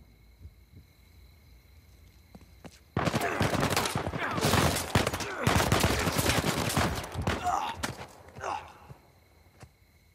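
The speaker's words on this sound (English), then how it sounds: "I'm being shot at." Dense gunfire bursts from the Uncharted 4 video game, a loud sustained fusillade of rapid shots starting abruptly after a quiet stretch, with brief vocal exclamations near the end.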